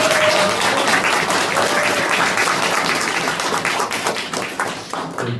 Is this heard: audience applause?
yes